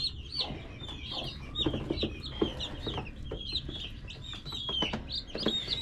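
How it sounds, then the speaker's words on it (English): A brood of about nineteen newly hatched chicks peeps and chirps steadily under a heat lamp in a brooder, with dense overlapping high calls close by and no talking. "There are 19 chicks"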